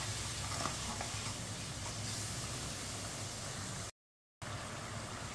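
Masala for sarson ka saag is mixed and fried in a pan, with a dense, even sizzle and hiss, soft stirring scrapes, and a brief total dropout to silence near the end.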